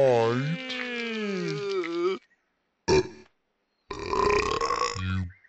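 A cartoon baby in Peppa Pig burps loudly in a long, wavering belch, followed after a short silence by a brief squeak and then more vocal cartoon sounds.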